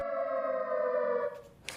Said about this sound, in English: their new siren song is going to be playing the next time the Bay Area experiences trouble